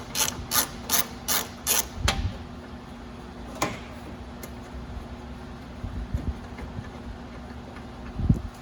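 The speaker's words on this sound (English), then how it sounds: "the first thing you're going to do is you're going to take this fender bolt off" A hand ratchet loosening a fender bolt on a Mazda Miata, with a quick burst of five sharp clicking pulls, then a few isolated clicks and knocks spaced out over a quiet background.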